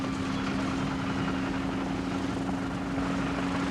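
Harvard propeller aircraft taking off over Hampshire, a steady droning engine roar with a strong low hum, continuous and even throughout, no voices.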